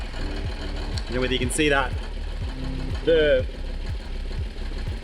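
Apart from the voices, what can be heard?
rattling loose exhaust on a 1988 Toyota FJ62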